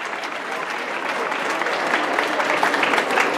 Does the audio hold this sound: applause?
yes